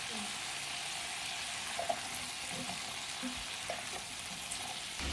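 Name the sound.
potatoes frying in oil with dry red chillies, nigella seeds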